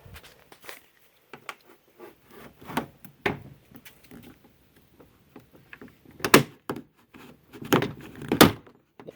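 Prying the interior door panel off a 2013 Chevrolet Sonic: scattered plastic clicks, scrapes and thunks, with two sharper, louder pops near the end as the retaining clips let go.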